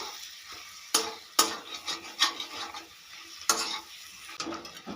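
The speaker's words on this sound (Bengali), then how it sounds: "ভেজে রাখা পটলগুলো দিয়ে দেবো পটলের সঙ্গে মশলাগুলো খুব ভালো করে মিশিয়ে নেবো" Fried pointed gourd (patol) is stirred into sizzling spice masala in a pan, with a soft fry hiss under repeated sharp scrapes and knocks of the spoon against the pot.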